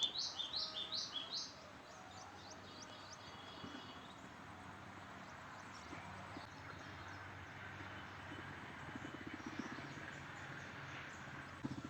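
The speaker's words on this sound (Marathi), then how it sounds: "पक्ष्यांचा आवाज येतोय डायरेक्ट." Birds chirping over a farm field after rain, a bright series of quick repeated chirps at the start followed by fainter scattered calls over a low steady outdoor hum.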